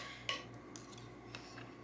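Utensils mixing a charred corn salad in a bowl, a few faint clinks and scrapes of metal against dishware, sparse and close in a quiet room with no talking.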